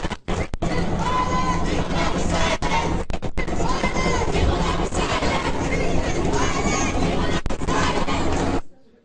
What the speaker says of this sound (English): Here's the crowd chanting outside Shapiro's speech about his speech being violent